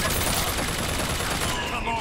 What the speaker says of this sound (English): Is there still somebody down here that thing is shooting at?